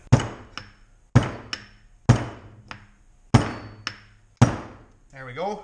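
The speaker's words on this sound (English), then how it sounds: "Just takes a couple good whacks, and everything kind of comes apart" Five sharp hammer whacks strike a Honda B-series transmission gearstack, each a loud metallic crack with a ringing decay and a lighter tap after most, spaced about a second apart; a brief voice murmurs at the end.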